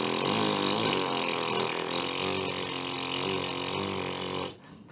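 A buzzing, rasping tone from lips vibrating on a trombone mouthpiece with firm corners, loud and close, holding a steady pitch for several seconds before cutting off abruptly.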